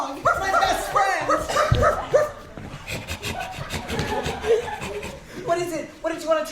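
A dog yelps and whines in short bursts over ongoing human talk and laughter, the animal close and fairly loud against the chatter.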